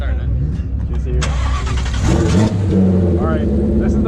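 A turbocharged Ford Mustang S550 with a stock motor and rebuilt transmission cranks and fires up, then settles into a loud, rough idle, with people talking close by.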